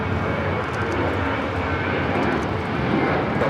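Southwest Airlines airliner at Los Angeles LAX, a loud continuous jet engine roar filling the whole stretch without pause.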